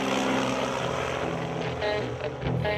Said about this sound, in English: the buzzing sound above of all those little airplanes flying in the short summer season